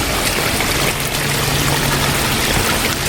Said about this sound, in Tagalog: Parang may falls.